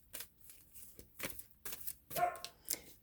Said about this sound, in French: j'ai dit au petit chien d'arrêter de crier